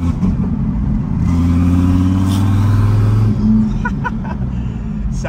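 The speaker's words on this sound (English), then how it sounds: "It's a very loud car." A Dodge Viper's loud engine rumbles from inside the car on a test drive, swelling into a rising rev that holds for a couple of seconds before easing back to a deep, steady drone.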